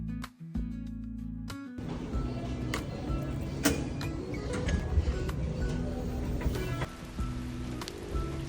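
Rain falls steadily on a wet street during a walk home, a continuous hiss of drops on surfaces with scattered sharper taps and faint passing traffic beneath.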